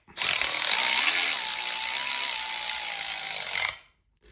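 A power tool runs in one steady burst of about three and a half seconds, whirring loudly and slightly dipping in pitch, while bolts are tightened during preparation for an 8-speed transmission swap on a Hemi-swapped Jeep JK.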